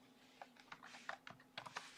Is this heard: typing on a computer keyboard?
yes